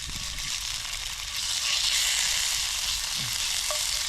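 Minute steak sizzles in a pan outdoors at Pagham Harbour, giving a loud, steady hiss throughout. A faint clink of a utensil comes near the end.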